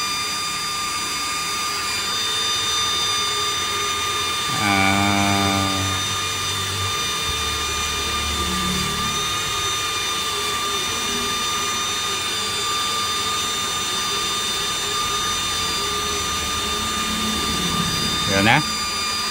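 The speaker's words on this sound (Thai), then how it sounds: "อ้พัดลมเดิมๆดังมากเลยนะฮะ" The original cooling fan of a faulty Suoer 1200VA UPS inverter whirs loudly and continuously up close, a steady mechanical hum with tonal whine, while someone speaks briefly over it.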